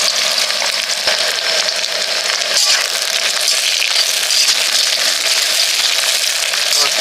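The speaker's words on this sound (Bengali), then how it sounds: "এই সামান্য পেঁয়াজ দিল।" A little onion frying in a pan, giving a continuous bright sizzle at a steady, fairly loud level with a few faint clinks.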